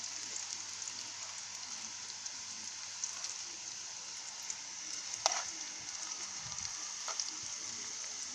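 Dumplings and spicy mackerel simmering in a pot over an outdoor fire give a steady, faint bubbling hiss, with a couple of brief crackles and pops rising above it.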